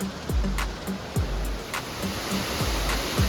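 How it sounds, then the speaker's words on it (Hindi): Water rushes down from the mountains under high pressure along the cloudy, cold road to Kedarnath. It makes a steady, loud broadband roar throughout, with faint rhythmic clicks and thumps beneath it and no talking. "पहाड़ों पे से पानी आ रहा है बहुत ही प्रेशर से।"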